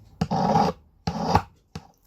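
A hand file rasps along the edge of a cut metal shape in three separate strokes, the first two long and the last short. The scraping sounds close, with quiet pauses between strokes.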